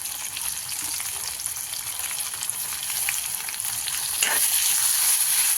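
A spice masala with tomato fries in oil for a dry chicken dish, producing a loud, continuous close sizzle that thickens slightly toward the end, with faint stirring scrapes and no speech.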